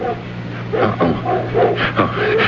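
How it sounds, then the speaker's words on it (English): Guard dogs in a junkyard bark and yip in short bursts, fairly close and loud, over a low background hum. "Guard dogs."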